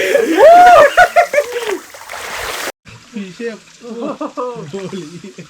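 Bathing in a cold stream or pool at a hillside campsite, with loud splashing and voices with laughter up front, then, after a brief cut, lighter splashing beneath continued chatter.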